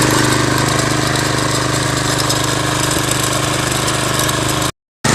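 A power tiller engine runs loud and steady right after a kick start on a hillside farm, a close, continuous chugging drone that cuts out briefly just before the end.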